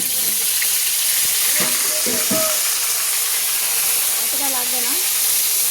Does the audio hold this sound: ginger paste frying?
yes